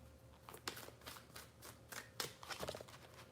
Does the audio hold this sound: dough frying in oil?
no